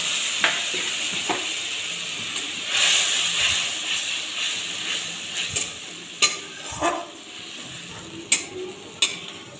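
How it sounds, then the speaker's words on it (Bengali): Onion, ginger, garlic and tomato paste frying in tempered oil in a home kitchen, a steady soft sizzle and hiss broken by sharp clacks and scrapes of stirring. "এবার এর মধ্যে আমি দিয়ে রাখবো আগে থেকে করে রাখা পেঁয়াজ আদা রসুন আর টমেটোর একটা পেস্ট"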